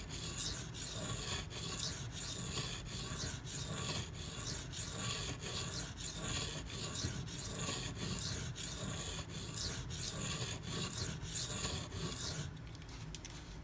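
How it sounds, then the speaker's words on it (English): Tip of a Spyderco Paramilitary 2 knife with a 52100 steel blade ground on a sharpening stone: a steady run of rhythmic rasping strokes, close and continuous, with no voices. "I'm gonna have to grind a little bit to get down in there"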